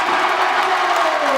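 Packed crowd of about 500 cheering at a Saturday night Muay Thai fight show, a steady, dense roar of voices filling the hall without a break.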